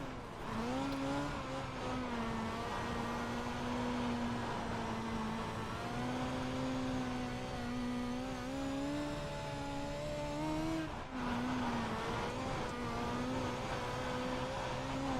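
Midget dirt race car engine in the iRacing sim at the Oswego dirt track, a steady loud buzzing drone that rises and falls through the corners of each lap, with a brief dip near the end before it picks up again.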